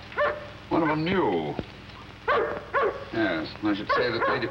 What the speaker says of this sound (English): Don't like the sound of that dog. The dog sounds hungry.